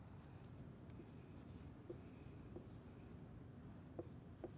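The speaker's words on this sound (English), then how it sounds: "I'm going to write it." Pen or pencil scratches faintly across paper as a single short word is written by hand, soft irregular strokes over a quiet background.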